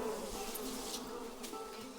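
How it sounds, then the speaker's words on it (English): Wasps buzz steadily and close throughout, a dense continuous insect drone with no voices. "wasps will charge at the least provocation"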